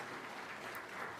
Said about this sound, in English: So under your applause, let's invite Prime Minister of Ukraine, Yulia Sviridenko.